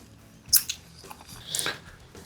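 Someone bites into a braai wood-smoked pork rib, with a couple of close, moist bites and chewing sounds, quiet and without talk.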